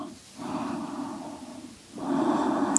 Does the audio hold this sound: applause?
no